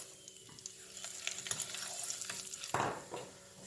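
Green chillies, turmeric, red chilli powder and salt sizzle in hot olive oil, a soft crackle with stirring scrapes and a brief louder hiss near the end, close and quiet.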